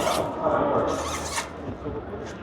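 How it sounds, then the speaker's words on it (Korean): A zipper on the outer frame of a car mosquito net being pulled open, a rasping slide rubbing close by, with someone talking over it. "외부 프레임 지퍼를 분리를 하고"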